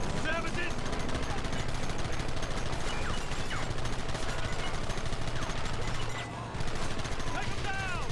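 Rapid gunfire rattles through a Red Dead Redemption shootout against attackers hiding behind a rock, bursts of shots crackling continuously over a dense backdrop of game noise, with voices talking now and then.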